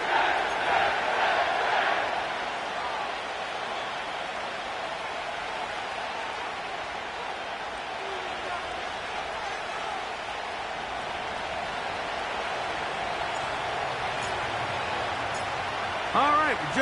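Simulated stadium crowd at MetLife Stadium in a Madden football game, a broad steady roar that swells briefly at the start, with a commentator talking over it.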